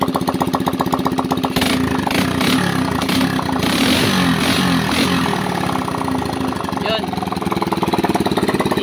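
A stock motorcycle engine whose primary was just repaired putters weakly and unevenly at idle, close by and steady throughout, with someone talking over it.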